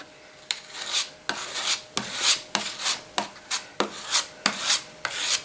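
Timbermate wood filler spread and scraped with a large spatula, a series of about a dozen sharp rasping strokes in an uneven rhythm, close and clear with no talking.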